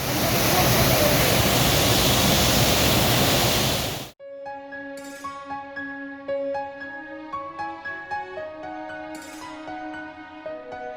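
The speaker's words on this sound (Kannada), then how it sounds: "ನಿರಂತರವಾಗಿ ಸುರಿಯುತ್ತಿರುವ ಮಳೆಯಿಂದಾಗಿ ನಾಗರಮಡಿ ಜಲಪಾತ ಮೈದುಂಬಿಕೊಂಡು ಬೋರ್ಗೆರೆಯುತ್ತಿದ್ದು" Nagarmadi waterfall swollen after continuous heavy rain gives a loud, dense roar of rushing water for about four seconds before it cuts abruptly to music.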